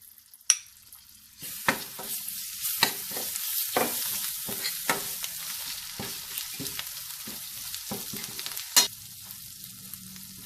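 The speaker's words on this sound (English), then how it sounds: "With that, we are going to add ginger garlic paste." Ginger garlic paste and green chilies fry in a pan for Hyderabadi mirchi ka salan, a steady sizzle broken by repeated scraping stirs and sharp clacks of a spoon against the pan, with no voices.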